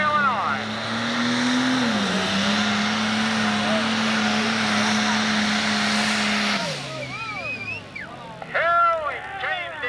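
A 10,000-pound Pro Stock pulling tractor roars at a tractor pull in Fisher, Illinois, a loud sustained engine drone that dips in pitch, then fades into distant engine whines, with an announcer talking over it.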